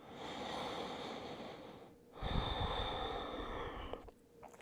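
During a yoga pose, with the arms out in a V and the forehead on the floor, a person takes slow, audible breaths close by. A long inhale or exhale flows into the next breath, with no talking.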